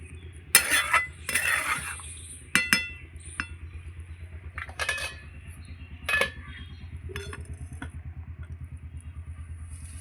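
A cooking pot lifted off the stove after simmering with garam masala, a few sharp metallic clinks and clanks of the pot and lid over a steady low burner hum.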